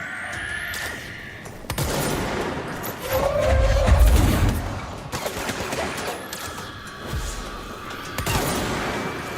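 Gunfire from enemies in the video game Control, with scattered shots and low booms in a busy game mix, rising to a heavier burst in the middle of the clip.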